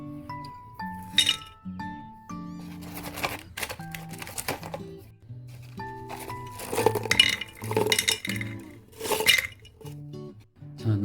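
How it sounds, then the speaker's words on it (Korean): Orchid pumice stones tumble into a glass terrarium, giving a run of bright clinks and rattling taps in uneven bursts, close and fairly crisp, with quiet gaps between pours. "난석을 넣도록 하겠습니다"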